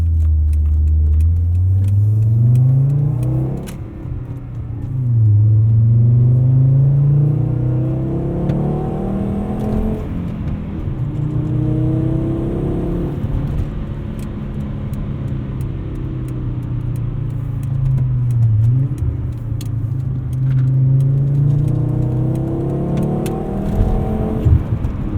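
A 1997 Volvo 850 R with a five-speed manual pulls through the gears from inside the cabin, the engine rising in pitch and dropping at each shift, over steady road rumble.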